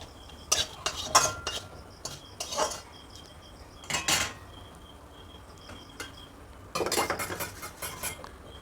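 A spoon scraping and clinking in a pan while spices with asafoetida powder are stirred for a vegetarian chana dal, in short irregular bursts of metallic clatter separated by quiet gaps.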